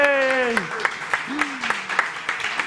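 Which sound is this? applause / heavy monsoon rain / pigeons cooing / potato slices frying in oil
applause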